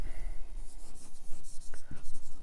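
Chalk or marker scratches across a board during a mathematics lecture on Legendre's differential equation, with short, close scraping strokes in quick bursts and soft voice sounds in between.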